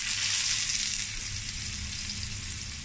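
Fish coated in salt and turmeric fries in a kadai with about two tablespoons of oil. A steady, bright sizzle sounds close and constant, with no talking.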